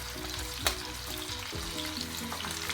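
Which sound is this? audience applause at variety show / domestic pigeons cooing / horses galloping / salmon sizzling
salmon sizzling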